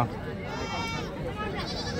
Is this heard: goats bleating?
yes